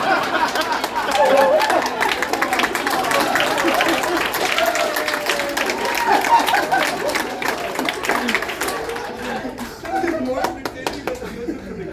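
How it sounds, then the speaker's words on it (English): A play audience claps and applauds in a dense, continuous patter, with chatter and voices mixed in that thin out toward the end. "Clap your hands."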